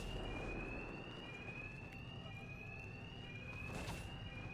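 Steady in-game alarm in Batman: Arkham Knight, a continuous high electronic wail with a faint pulsing tone held throughout over a low rumbling background, with no voices.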